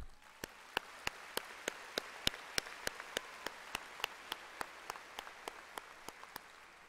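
Evenly spaced, crisp handclaps at a high school graduation ceremony ring out in a steady, slow rhythm, faint and somewhat distant in a hushed hall.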